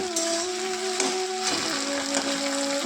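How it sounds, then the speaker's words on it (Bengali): Okra (lady's finger) fries in a pan with a steady, even sizzle, over a constant tonal hum that sounds like a kitchen fan. No one speaks. "এদিকে দেখো আমি ঢেঁড়স ভাজা করতে দিয়েছি"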